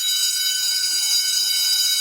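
A school class bell rings continuously in a steady, bright electric tone, loud and unbroken throughout.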